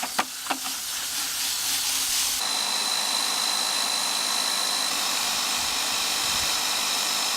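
An airless paint sprayer being cleaned out, spraying: a couple of sharp clicks, then a loud, steady, unbroken hiss of spray that continues to the end.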